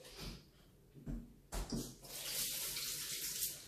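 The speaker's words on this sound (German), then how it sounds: "So, einmal kurz Hände waschen." Hands being washed under a running kitchen tap, with a few splashes and clunks at the start before the water settles into a steady rushing stream, soft and close.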